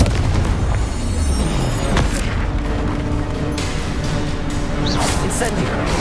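Confringo fire spell blasts in Hogwarts Legacy, a loud booming explosion amid dense continuous combat noise, with further bursts and crackling layered over music throughout.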